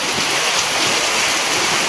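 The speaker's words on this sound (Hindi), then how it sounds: "और बारिश बहुत ज़्यादा हो रही है।" Heavy rain pours down around a home in a steady, morning-long downpour, heard as a loud, continuous broadband hiss with no breaks and no voices.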